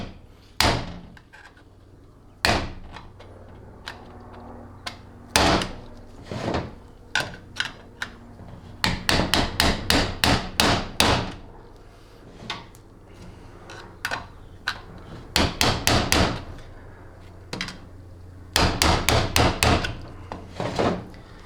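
A hammer strikes a 6L80 transmission drum during a rebuild, heard as sharp, close metallic taps, some single and some in quick runs of several blows, with quiet gaps between.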